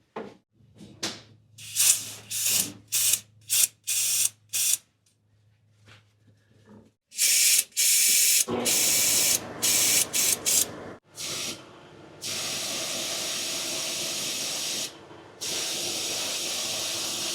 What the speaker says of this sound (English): after I blew air through the lines